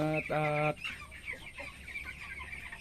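Broiler chickens on a poultry farm, about 15 days old: one loud, drawn-out tonal call, then a scatter of softer clucks and chirps nearby.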